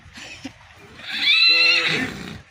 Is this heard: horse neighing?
yes